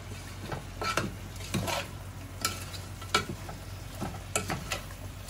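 Curry leaves and coriander powder being sautéed in a pan for a Kerala-style chicken stew, with a faint background sizzle broken by repeated scraping stirs of a spoon against the pan.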